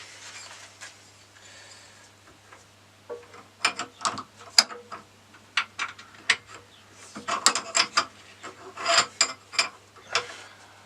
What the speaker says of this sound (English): The tightening of the jaws, the mechanism in the back. Let's see if we can get the spanner in here.